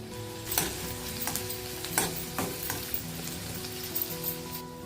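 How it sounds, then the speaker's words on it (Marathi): Garlic, onion and green chili sizzle in hot oil for a spring onion stir-fry, a soft, steady crackle close up, broken by a few sharp clacks of stirring. "आता तेल तापत ठेवू, त्याच्यात आपण लसूण टाकूया। कांदा टाकलाय, मिरची घेतली आहे"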